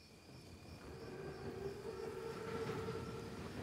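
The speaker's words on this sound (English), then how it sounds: "Train's right on time." A massive armored train rolls past in a World War II Call of Duty game scene, a faint, steady mechanical rumble that swells slightly as it nears, with no talking.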